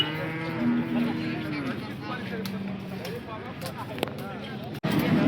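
Cows and cattle low with drawn-out moos at the Sangola cattle market, set against a busy background of crowd chatter and people talking throughout.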